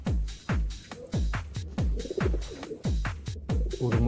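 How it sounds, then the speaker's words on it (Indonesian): A pet Gondok pigeon crossbred with a Modena coos in a steady series of low, throaty calls, about two per second, close and fairly loud, with no other sounds around them. "burung merpati peliharaan saya,"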